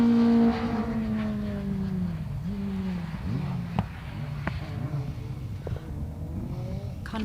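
Rally car on a race stage accelerating past, engine note rising and falling as it sweeps by at moderate distance, with a faint voice in the background.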